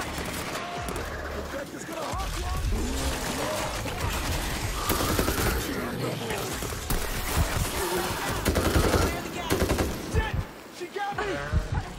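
Gunfire in the zombie shooter World War Z: dense, continuous bursts of rapid shots over a noisy battle backdrop for most of the stretch, with a player's voice speaking briefly over it.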